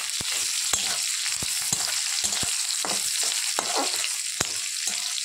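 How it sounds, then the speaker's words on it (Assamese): Onion, ginger, garlic and green chili crackle and sizzle in oil nearby, punctuated by irregular sharp taps of a spatula against the pan. "আদা, নহৰু আৰু কেঁচা জলকীয়া দি দিছোঁ। ভালদৰে ভাজি লওঁ।"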